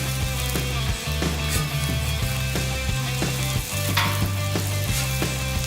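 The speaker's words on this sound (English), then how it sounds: "Give a little flippy flip of the sausage." Sausage sizzles steadily and loudly on a Blackstone griddle while cooking a breakfast sandwich, with occasional scraping and tapping as it is flipped.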